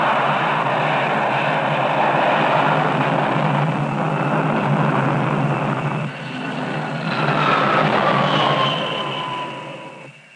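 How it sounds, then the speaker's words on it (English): Jet aircraft roar steadily on an aircraft carrier flight deck during 1960s Navy catapult operations. The loud, continuous engine noise dips briefly, then swells again with a rising whine before tapering off. "Out on the flight deck, the jet planes are poised to catapult into a new day's operations."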